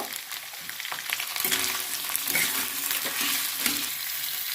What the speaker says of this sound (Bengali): এর মধ্যে আমি দিয়ে দেবো পেঁয়াজগুলো আর টমেটো এটাকে তিন মিনিট বা দু মিনিট আমি ভেজে নেব